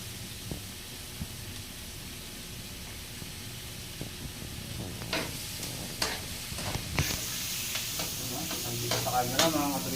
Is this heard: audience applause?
no